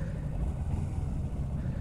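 A Kawasaki Ninja 250 motorcycle engine droning steadily while riding, a low, continuous rumble mixed with wind noise.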